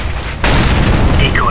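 A grenade explodes in Counter-Strike: Global Offensive as a sudden loud blast that swells into a sustained, roaring broadband rumble and does not fade within the clip.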